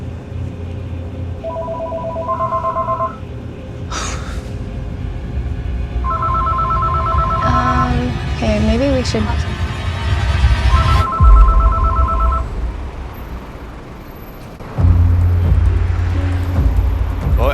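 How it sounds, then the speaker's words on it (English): A telephone rings in repeated two-tone bursts inside a house basement, loud and near, with a steady background hum, brief clatter and people speaking quietly between the rings. "the phone rang, phone went off"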